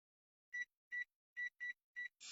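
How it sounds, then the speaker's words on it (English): A kitchen timer beeping while cakes bake, six short electronic chirps in an uneven rhythm, close and fairly quiet, against near silence. "I'm gonna set the timer for 15 minutes"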